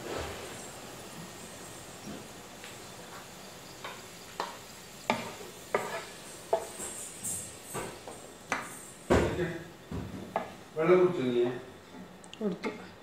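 Browned fried onions for chicken dum biryani being scooped out of a hot pan, with a series of repeated spoon scrapes and knocks against the metal over a low frying sizzle, with a voice talking now and then.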